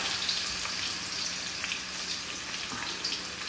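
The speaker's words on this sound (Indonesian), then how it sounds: "Ini sekarang kita masukkan dulu bawang merah, bawang putihnya. Kita tumis." Shallots and garlic sauté in about five tablespoons of oil for nasi kebuli, giving a steady, fairly loud sizzle and crackle without pause and no talking over it.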